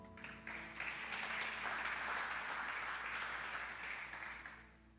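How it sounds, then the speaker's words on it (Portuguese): A church congregation applauds during a sermon on spiritual authority, a steady wash of clapping that swells in and tapers off near the end, heard at a moderate distance in a reverberant hall. "Dá um aplauso ao Senhor aí"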